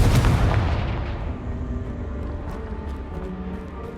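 A Confringo blasting spell detonates in the Hogwarts Legacy video game, a loud, deep boom at the start that rumbles and slowly decays into a low, fading tail.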